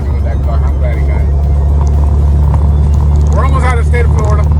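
A friend's new car, a GTI, drones with a steady, loud low engine rumble on a Florida road trip, with voices chattering over it throughout.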